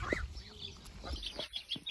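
Chicks peep and a broody hen clucks softly among poultry on a small farm, with short, faint calls scattered across a quiet yard.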